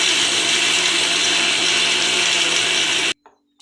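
Mixer grinder blitzing roasted flax seeds, green chilli and salt, a loud steady whirring grind that runs for about three seconds and then cuts off abruptly into near silence.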